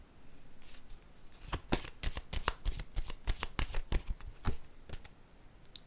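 Tarot cards are shuffled and handled in a quick run of crisp, close card flicks and slaps, with several sharp taps as cards are set down, no voice over them.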